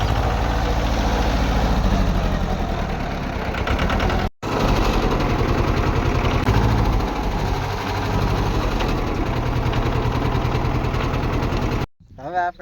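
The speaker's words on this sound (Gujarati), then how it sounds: "આપડા ઉર્મિલભાઈ ટ્રેક્ટર હાંકી રહ્યા છે" A farm tractor's engine runs steadily while being driven, with a loud, continuous low rumble and a rattling chug that carries through the whole stretch. It drops out briefly once and cuts off near the end.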